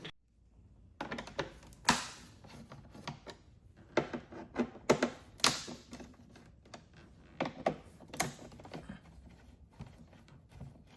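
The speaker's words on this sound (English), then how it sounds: "we need to remove these three 5mm socket bolts from the inside of the cover" Bolts being worked out of the inside of a 2018-or-later Honda Goldwing cover with a 5mm socket, giving a string of sharp, close clicks and taps at an uneven pace, with nobody speaking.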